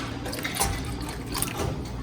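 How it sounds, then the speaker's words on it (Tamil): Water is poured into a pot of South Indian dal curry (paruppu kuzhambu), giving a soft, continuous splashing trickle at close range, fairly quiet and without talk. "ஆனால் இந்த தண்ணியே பத்தாது, இன்னும் கொஞ்சம் தண்ணி ஊற்றணும்."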